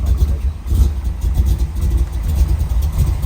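A truck engine idles with a low, steady rumble, deep and close, with a slight uneven pulse and no voices.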